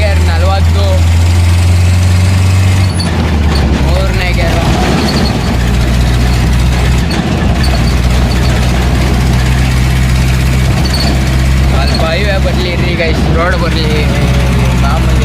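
The diesel engine of a Tata 207 DI pickup runs loud and close, shifting from a low idle-like drone into a revving drive on the road, while someone talks over it throughout.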